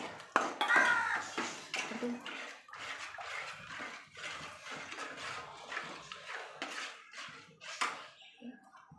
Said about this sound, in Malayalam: വെള്ളം കൂടെ ഒഴിച്ചു കൊടുക്കാം